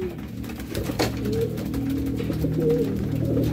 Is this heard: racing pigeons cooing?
yes